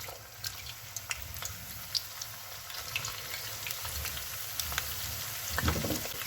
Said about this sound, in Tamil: இதே மாதிரி மீதமுள்ள வெண்டைக்காய் எல்லாத்தையும் பொரிச்சு எடுத்துக்கொள்வோம்.